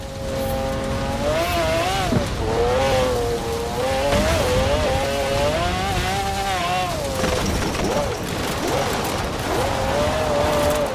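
A McLaren race car in the video game Forza Horizon 4, its engine droning steadily and loudly with wavering pitch as revs rise and fall, a continuous roar with road and rain-like noise underneath.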